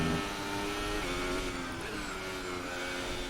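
A Formula 1 car engine in the F1 2018 racing game revs steadily and loudly at a high pitch, a continuous engine tone with a slight rise and fall in pitch and no talk over it.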